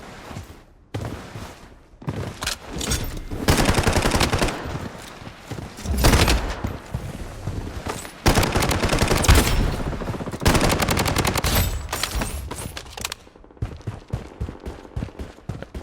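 Rapid automatic gunfire crackles through a Blood Strike firefight on Skyline Beach, with dense bursts and single shots over several seconds, loud and near, with more distant exchanges between.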